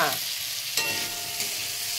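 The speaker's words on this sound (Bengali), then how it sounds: "ফুলকপিটা আর আলুটা একসঙ্গে একটু ভেজে নিই" Potatoes and cauliflower fry in a hot pan with a constant loud sizzle, and a spatula scrapes and stirs a couple of times.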